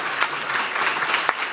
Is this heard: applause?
yes